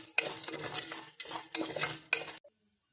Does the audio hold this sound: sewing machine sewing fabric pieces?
no